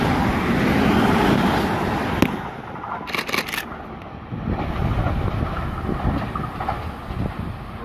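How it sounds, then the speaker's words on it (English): Sydney train pulling into platform 3 at Concord West station, a steady rumbling roar with rattling wheels that builds, then a sharp clatter and metallic squeals before the rolling rumble continues nearby. "Driving into platform number 3, we have a central service."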